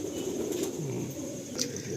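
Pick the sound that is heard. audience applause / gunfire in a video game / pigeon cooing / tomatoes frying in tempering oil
pigeon cooing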